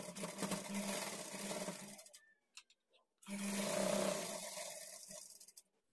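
Close, loud sewing machine runs stitching a blouse lining, two steady bursts separated by a brief pause with small handling clicks.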